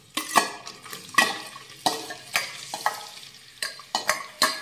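Onion tossed into hot oil with cumin, bay leaf, cinnamon, pepper, cloves and cardamom for aloo matar pulao, bursts of loud sizzling and spatula scrapes against the pan repeating in an uneven rhythm, close up and free of talk.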